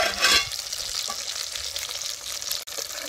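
Onion frying in oil on a wood-fired clay stove with turmeric added, stirred as it browns; a steady close sizzle with a louder stirring scrape near the start, no talking.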